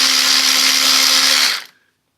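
A power screwdriver backs out self-tapping seat screws on a 1982 Yamaha 650 Seca motorcycle: one steady, loud whirring burst of about a second and a half that stops abruptly, with no talk.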